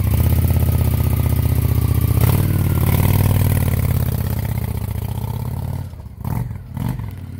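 Honda motorcycle engine idling steadily with the choke off, a close even putter that dips near the end with a couple of short throttle blips.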